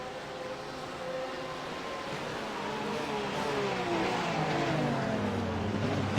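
GT3 race cars power out of a chicane toward the start-finish line at Magny-Cours in a racing game, a steady, loud engine drone with rising harmonic pitch sweeps as they accelerate, running continuously without a break.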